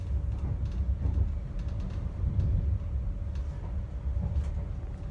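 Inside a moving Greater Anglia passenger train, a steady low rumble and rolling hum continue throughout, with faint light rattles and clicks over the top.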